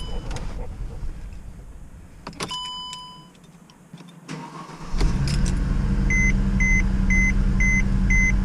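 A 2009 Mercedes-Benz C350 with a coolant temperature sensor fault, idling with a steady engine hum, short electronic beeps and clicks, then a louder, fuller running sound in the second half; no speech.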